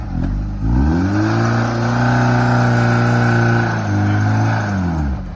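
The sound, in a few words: 1998 Isuzu Amigo engine revving up a small hill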